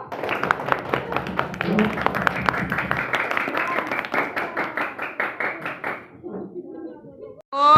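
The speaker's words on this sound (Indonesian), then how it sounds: "Beri tepuk tangan untuk kelompok 1." A classroom group claps for a presenting team, a fairly close burst of many hands that thins out over several seconds and trails off into quiet.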